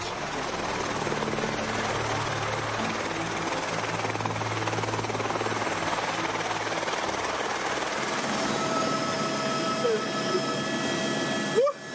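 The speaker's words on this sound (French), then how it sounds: "en guise de remonte-pente, l'hélicoptère, une expérience unique" A helicopter used as a ski lift drones loudly and steadily throughout, rotor and engine close by, with no talking.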